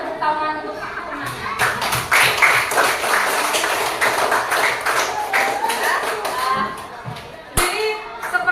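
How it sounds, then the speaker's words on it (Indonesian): Students in a classroom applaud their classmates, a burst of quick overlapping hand claps that swells for several seconds, fades out, and then returns briefly. "tepuk tangan untuk teman-teman"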